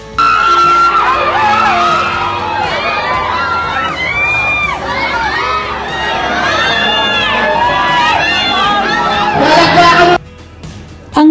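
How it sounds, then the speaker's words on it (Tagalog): Fans at a movie premiere red carpet scream and cheer, with many high-pitched voices shrieking and whooping in a dense, loud, continuous din that drops off briefly near the end. "Sa red carpet pa lang pinagkaguluhan na sila ng mga tao at hiyawan ang lahat."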